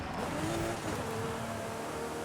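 Cars race past in Forza Horizon 5, engines droning steadily and close with a rising whine overlapping throughout, no talk.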